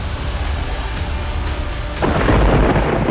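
Thunder rolls through a heavy rainstorm, a steady low rumble with constant rain hiss that swells louder and denser partway through, no voices.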